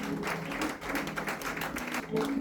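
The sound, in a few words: congregation applauding Jesus in church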